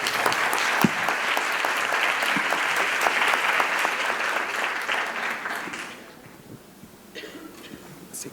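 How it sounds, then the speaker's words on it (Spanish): Warm applause from an audience welcoming the British deputy ambassador at an event in Mexico, steady and full for about six seconds before tapering into a few scattered claps. "para quien pido un especial aplauso"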